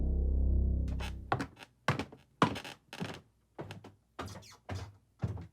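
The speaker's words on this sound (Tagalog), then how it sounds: "narinig niyang nagsara ang pinto" A door closing, heard as a low rumble followed by a series of sharp, close thunks and knocks with short gaps between them.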